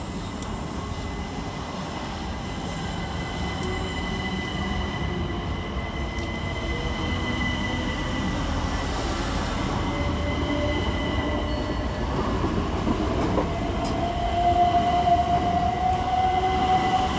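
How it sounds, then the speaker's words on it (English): Class 377 electric multiple unit trains idle and move through Clapham Junction station with a steady rumbling drone, a faint electric whine and a high metallic squeal rising near the end. "Next train out, 377-130 and 377-112, with 1758 Southern Railway service from London Victoria to East Grinstead"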